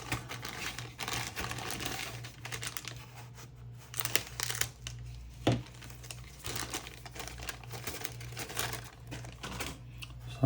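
Plastic parts bag from a model kit being cut open and handled, with steady crinkling and rustling of thin plastic at close range, a few sharper snips and crackles, no one talking.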